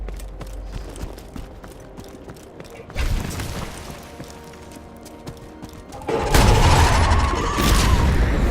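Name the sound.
explosion in Borderlands 2 video game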